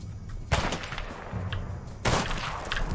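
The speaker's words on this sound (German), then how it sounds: "Ich werde beschossen." Two sharp bursts of gunfire in A Way Out crack out about a second and a half apart, over a low background rumble.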